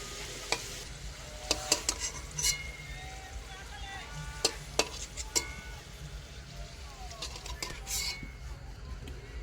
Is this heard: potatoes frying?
yes